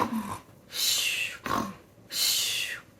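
A person imitates snoring: two long, breathy rasping inhales with a snort between them, close and exaggerated.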